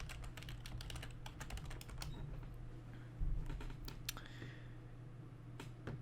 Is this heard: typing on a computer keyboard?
yes